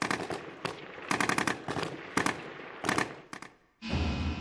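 Battle at the Qala-i-Jangi fortress in Afghanistan in 2002: bursts of automatic gunfire and single shots crackle in rapid clusters with short gaps, ending in a louder sustained roar.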